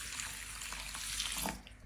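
Water pouring into a bowl of seed cracker mixture with oregano, a steady splashing pour lasting under two seconds with no talk.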